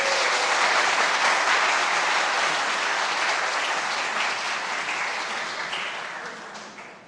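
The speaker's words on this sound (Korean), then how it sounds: "목사님 나오실 때 우리 큰 박수로 환영해 주셨습니다." A church congregation applauding as the pastor comes forward, a loud, dense burst of clapping from many people that holds steady, then gradually thins and fades toward the end.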